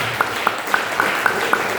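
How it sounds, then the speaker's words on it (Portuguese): A church congregation claps together in a steady, regular rhythm, sharp even beats repeating about four times a second over a soft background murmur. "Vai ter as palmas que louvam e engrandecem ao Senhor Jesus."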